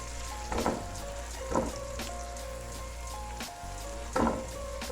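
Chopped capsicum and cabbage tossed in a hot pan: a steady, close frying sizzle broken by a few louder bursts of stirring, with no talk.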